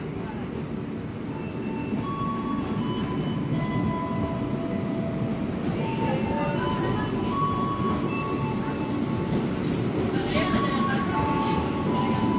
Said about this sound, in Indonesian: Kereta api Kertajaya, relasi Jakarta Pasar Senen, Surabaya Pasar Turi, kelas premium